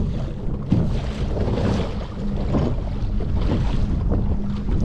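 Wind gusting over open water while out on a kayak in roughening conditions, a loud broadband rush with buffeting bursts against the microphone, continuous and unbroken, with no speech.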